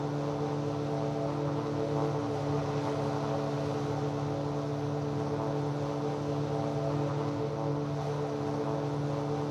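A propeller airplane in flight gives a steady, loud droning hum with a constant engine pitch, heard close and unbroken from inside for the whole stretch, with no voices.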